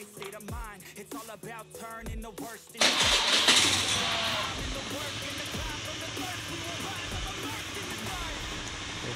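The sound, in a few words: Honda Vario motorcycle engine running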